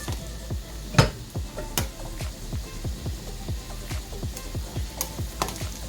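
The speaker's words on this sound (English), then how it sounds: "On the side, I'm frying plantain." Plantain sizzles and crackles frying in a pan, with a regular series of soft knocking taps and scrapes against the pan throughout.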